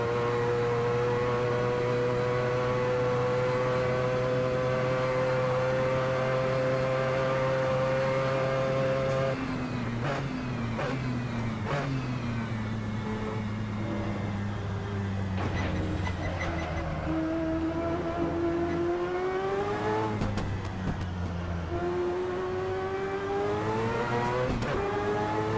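A race car engine in Assetto Corsa revs loud and close, its pitch climbing and dropping through gear changes and a corner, with steady harmonic whine throughout and no talk.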